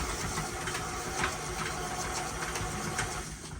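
An electric stand mixer runs steadily with a mixer shield fitted, giving a continuous mid-pitched motor whir with a faint rhythmic rattle, close and fairly even in level throughout.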